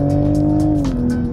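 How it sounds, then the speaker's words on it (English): Steady, droning engine note of a Toyota GR Supra heard from inside the cockpit, a constant loud hum with a slight pitch drop near the end. "The engine cockpit noise"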